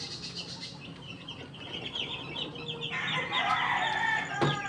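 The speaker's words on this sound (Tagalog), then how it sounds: "Mas maliksi yung sisiw sa umaga." Chicks in a brooder kept warm by a heater, peeping and chirping busily in a steady chorus that grows fuller toward the end, with one brief louder knock near the close and no talk.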